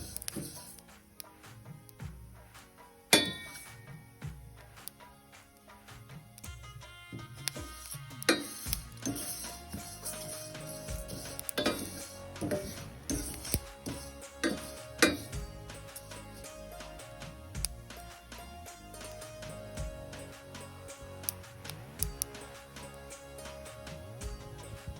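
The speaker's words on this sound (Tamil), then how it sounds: "இது எள்ளு மாதிரியே வெடிக்கும்." Seeds dry-roasting in a pan for idli chutney powder crackle and pop in a dense, irregular stream of close, sharp clicks, with occasional louder snaps over a steady low rustle.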